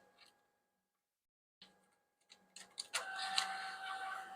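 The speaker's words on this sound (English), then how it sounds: "So let's go back to the ticket printer here" A ticket printer gives a few faint clicks after a quiet pause, then whirs steadily up close as it feeds paper through, with no voices.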